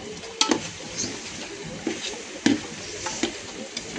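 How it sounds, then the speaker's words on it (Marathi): A spoon scrapes and knocks against a pot while chicken biryani masala with yogurt is stirred, giving a few sharp clinks over a soft, steady background hiss. "त्याला चांगलं हलवून घेऊया आपण."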